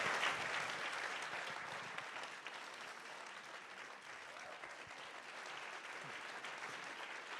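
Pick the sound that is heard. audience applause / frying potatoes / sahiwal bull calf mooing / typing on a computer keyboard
audience applause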